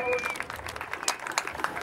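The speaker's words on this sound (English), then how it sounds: "let's give a big round of applause for all our VMV Yes! players, all our seniors" A crowd at a high school sports senior send-off applauds for the graduating players, a steady patter of clapping and cheering in a large space under someone speaking over a PA.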